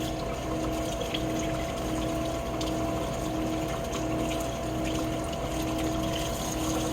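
Tap water runs steadily while raw pork is rinsed before cooking, a continuous, fairly loud rushing flow with no breaks and no talking.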